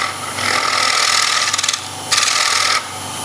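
A quarter-inch bowl gouge takes a thin bevel-rubbing cut on a wooden bowl turning on a lathe, a steady scraping hiss that rises in two louder bursts before easing off.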